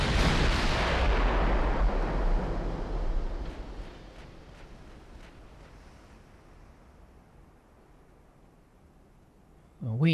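Heavy naval guns fire in the video game Ultimate Admiral: Dreadnoughts, opening with a loud booming salvo that decays into a long rumbling tail, then a fainter stretch before another sharp blast at the very end.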